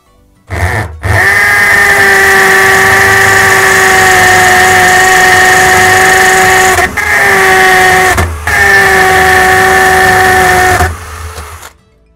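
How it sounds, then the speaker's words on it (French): A Bosch Professional GSB 18V-21 cordless drill in hammer mode bores a 10 mm bit into a terracotta block, a loud steady buzzing whine held for about ten seconds with two brief dips, starting and stopping abruptly, close up with no voices. "Je vais donc la passer en mode percussion maintenant."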